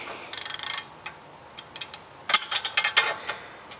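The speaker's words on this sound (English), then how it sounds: "I will have to counter hold it with the Torx and then loosen it." Ratchet wrench clicking while a suspension nut is loosened and counter-held with a Torx bit on a BMW E90 328i front end, a fast burst of close ratchet clicks followed by scattered metallic ticks and turns.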